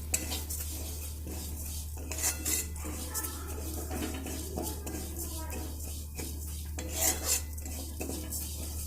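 Vegetables for dal shukto are stirred and fried in a pan, with a spoon scraping and clinking against the metal in irregular bursts over a low steady hum.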